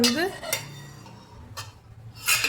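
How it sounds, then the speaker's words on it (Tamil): A spoon stirs spinach in a metal cooking pot, giving a few separate scraping and clinking strokes against the pot's sides, close and fairly loud, with short quiet pauses between them. "அடி இருக்கிறது மேலே வர்ற மாதிரி கிளறி விட்டோம்னா சீக்கிரம் வெந்துடும்"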